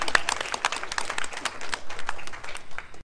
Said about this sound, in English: can we please give him another round of applause for that wonderful speech